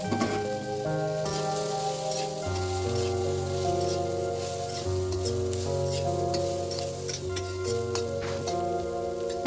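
Pre-fried potato and soya chunks hit a hot pan for a soybean and pea gravy, giving a steady, close sizzle that continues under background music.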